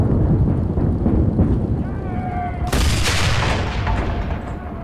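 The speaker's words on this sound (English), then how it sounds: "I'm just here with the machine gun going." A Panther tank's machine gun firing in a war video game, a loud dense roar of gunfire and rumbling explosions with a sharp burst partway through, and a voice speaking over it.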